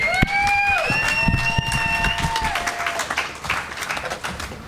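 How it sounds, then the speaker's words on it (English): An audience at a live comedy show claps for contestants, with dense, fairly loud applause and a few whistles over it before it thins out and fades. "Give them a round of applause and wish them the best of luck, everybody."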